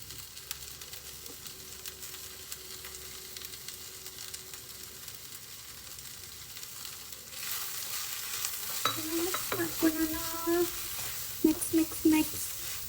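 Grated coconut is stirred into bhindi frying in a pan, with a quiet sizzle that turns into louder scraping and stirring clatter partway through.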